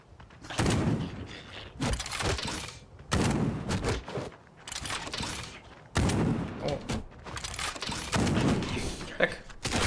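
Gunfire in the video game Death Trash comes in loud, repeated bursts of shots with short pauses between volleys, close and punchy throughout.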